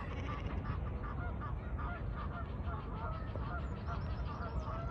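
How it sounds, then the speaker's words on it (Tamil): Honking swan calls repeat in a noisy outdoor scene on water, several nasal honks over a steady rumble of background noise. "இந்த அன்னப்பறவை ஒன்று வருகிறது"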